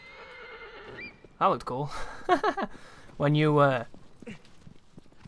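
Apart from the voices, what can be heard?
horse neighing and hooves in Shadow of the Colossus video game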